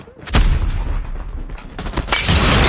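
A loud, close bottle-bomb explosion in the Call of Duty Mobile shooter, a sharp blast followed by sustained rumbling and a second burst of noise, amid game gunfire.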